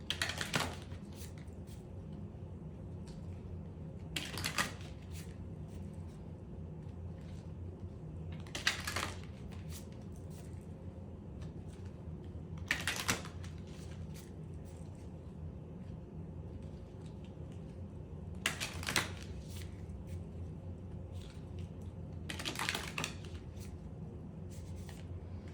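A deck of moon affirmation cards being shuffled in a few separate riffling bursts spaced several seconds apart, over a steady low room hum with no talking.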